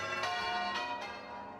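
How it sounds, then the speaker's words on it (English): Church bells ring out in celebration, with several resonant strikes whose long metallic overtones overlap and slowly decay, heard alone and at moderate volume. "the church bells rang in celebration"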